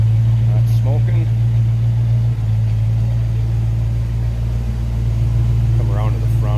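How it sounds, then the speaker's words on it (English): A 1966 Ford Mustang coupe's 302 V8 idles with a steady low rumble, close and continuous, while a person talks briefly over it. "See that 302, a little rumble to it."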